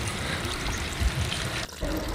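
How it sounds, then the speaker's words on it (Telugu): Water poured gently from a watering can at the side of lotus plants, a close, continuous splashing trickle with a brief dip near the end. "ఇలా రోజు క్యాన్ తీసుకొని సైడ్కి పోయాలి"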